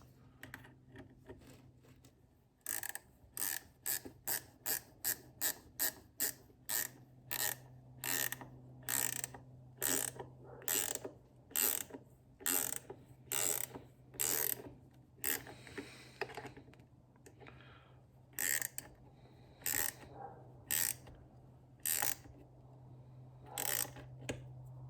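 A hand ratchet tightens a bolt on a fire-damaged ATV winch, giving regular, separate bursts of sharp clicks, close and fairly clear over a steady low hum.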